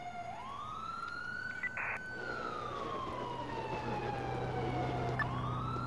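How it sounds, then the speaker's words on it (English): A police car siren in the video game GTA 4 with the LCPDFR mod wails in long rising and falling sweeps, loud and continuous over a low engine hum, with a brief horn-like blip early on. "Oh yeah, I have a siren."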